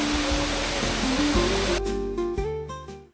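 A waterfall roars as a dense, loud, steady wash of falling water on a difficult hiking path at Wong Lung, cutting off abruptly partway through with only faint tones left after.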